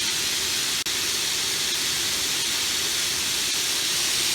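Steady broadband roar of an oxyhydrogen brazing torch flame infused with acetone, burning through a small number 85 gas-stove spud; continuous close hiss with no talk and only a brief dropout near the start.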